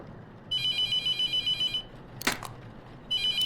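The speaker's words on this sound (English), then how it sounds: "now we have to answer the phone" A phone rings in the horror game Mortuary Assistant, playing a bright electronic ringtone in two pulsing bursts separated by a short gap and a brief rustle, with no one speaking.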